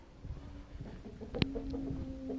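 Roosters cluck softly in a coop, scattered short calls with one sharper squawk midway, set against a low hum and faint background noise.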